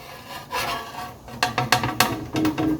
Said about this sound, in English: get our wrench up here to unscrew it from the